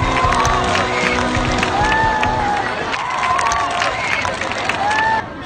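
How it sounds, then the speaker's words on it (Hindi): A crowd in a children's TV series cheers and claps in celebration, loud, lively clapping mixed with shouts and whoops, with a voice speaking over it and tonal music sounds in the background. "झूला तालियों बजा दे शक्तिमान के लिए।"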